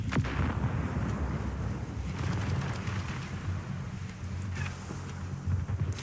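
Machine gun fire in the modern tank combat video game Project CW, a dense, steady stream of rattling shots over deep booming rumble that runs continuously throughout, loud and close.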